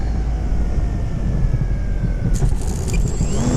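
Small RC T-28 Trojan model airplane engine whining over an airfield as the throttle is cut back for a no-flap landing, a steady thin drone with pitch sliding down, mixed with outdoor background noise.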